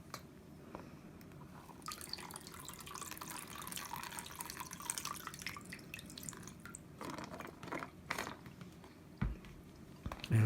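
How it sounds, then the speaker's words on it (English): Water shaken in a gold pan while gold panning outdoors: faint sloshing and scattered drips, quiet and close, with soft background noise and no talking. "always take water from the back side and give it a little shake again."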